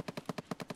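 A rapid burst of automatic gunfire in Escape From Tarkov, about eight evenly spaced shots in under a second, fairly quiet and distant.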